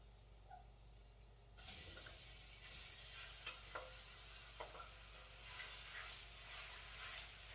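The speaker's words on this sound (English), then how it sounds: "you can hear it sizzle" Meat for green chile stew hits a hot pan and begins a faint, steady sizzle, with occasional soft scrapes and clinks of utensils over the crackling hiss.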